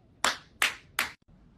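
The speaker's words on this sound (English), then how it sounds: "Who the fuck claps when a plane lands?" Three separate loud hand claps in slow succession, each sharp with a short decay, from passengers applauding as a plane lands, with a brief quiet pause after.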